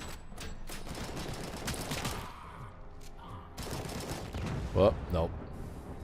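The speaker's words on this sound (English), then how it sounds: "Oh shit, machine gun, you're all fucked now." Machine gun fire in RoboCop: Rogue City crackles in rapid bursts amid shooter game noise, loud early and then trailing off, while a man briefly exclaims over it.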